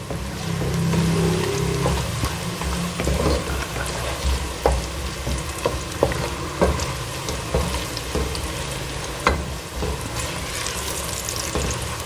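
Onions browning in a pan for matar pulao sizzle and fry steadily, a continuous close crackle with occasional sharp ticks and light scraping as they are stirred.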